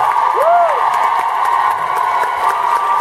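A crowd of cruise concert fans applauds and cheers continuously after a song, dense steady clapping with whoops and a rising whistle near the start, loud and close.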